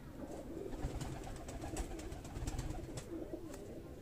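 Breeder pigeons coo softly and steadily in a loft, a low murmuring burble with a constant background hum and no talking.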